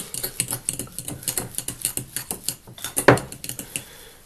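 A utensil mixing mayonnaise into a dozen eggs' worth of hard-boiled yolks in a bowl, heard as fast, steady clinking and scraping strokes, close and loud, with one sharper knock near the end.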